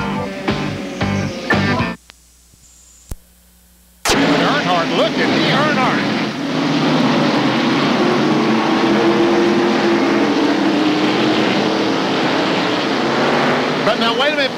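Stock cars roar around North Wilkesboro Speedway during the 1994 Tyson Holly Farms 400, a loud, dense engine drone that cuts out briefly and then returns under excited commentary.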